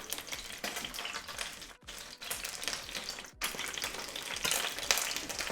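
Butter sizzles and crackles in a hot pan around browning stuffed chicken thighs, a steady close fry with brief dips in level.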